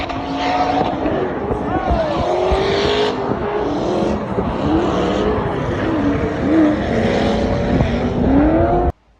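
Twin-turbo Corvette C5 drift car engine held at the rev limiter, loud and close with a steady bouncing roar and fluttering revs throughout, cutting off abruptly at the end.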